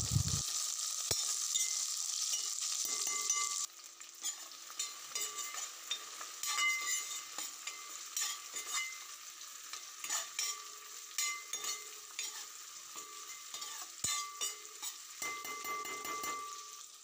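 Tomatoes fry in a pan for an aloo fry curry while being stirred, giving a steady close sizzle with scraping spoon strokes that turn intermittent after the first few seconds, no voices present.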